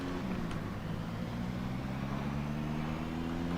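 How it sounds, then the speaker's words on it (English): A car drives along a road in the zombie survival video game Project Zomboid, giving a steady, low engine drone with faint hum over a broad noisy wash, continuous and unchanging, with no talk. "we're making a lot of noise just driving by in general"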